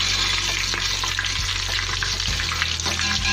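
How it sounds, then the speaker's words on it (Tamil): Cashews frying in oil in a pan for mutton biryani, a steady close sizzle with crackling running throughout and a few low stirring scrapes, no voices. "லைட்டாக ஃப்ரை ஆகட்டும்."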